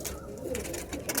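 Madrasi high-flying tournament pigeons coo softly in short, low murmuring calls, faint and close, over a quiet background.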